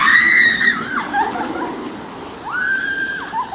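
A person screams loudly for their life after being dropped about 70 feet on a zipline ride in Bohol, Philippines, with two long high wails separated by a brief pause.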